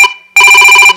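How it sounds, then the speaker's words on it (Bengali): Telephone ringing loudly and close up for an incoming call, a fast warbling electronic trill that cuts off briefly and then resumes in a rapid pulsing burst. "আমি জানতাম যে ফোনটা আসবে"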